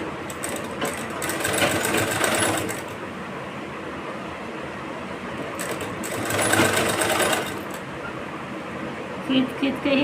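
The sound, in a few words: sewing machine stitching blouse piping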